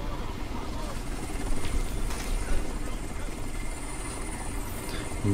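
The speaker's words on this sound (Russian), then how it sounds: "Ненавижу вертушки в этой игре." A helicopter in the video game Crysis makes a steady, thrumming rotor drone that stays fairly loud and even throughout.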